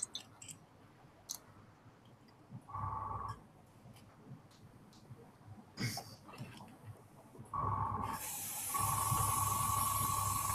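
A spray can hisses out matte varnish as a final coat, a short burst first, then longer continuous sprays building to a steady hiss near the end, with faint clicks between.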